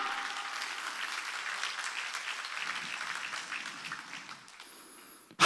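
A church congregation claps hands together during a worship service, a continuous even patter of many hands at moderate level, easing slightly toward the end before a brief sharp noise.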